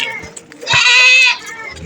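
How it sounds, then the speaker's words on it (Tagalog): Goats bleat at a livestock market in Lemery, Batangas, with one loud, drawn-out bleat up close and faint voices around it. "Oh, dami magandang kambing"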